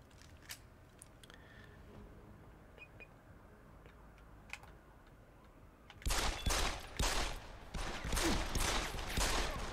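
Pistol fire in Deus Ex: Human Revolution breaks out after a quiet stretch of faint ticks and clicks, turning into a loud, rapid run of repeated close shots that carries on to the end.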